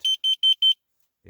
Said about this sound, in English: you should bring along a carbon monoxide detector